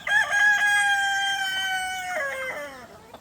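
A rooster crows in a backyard flock of chickens and turkeys, one long, loud drawn-out call that wavers and falls away at the end, with no talking.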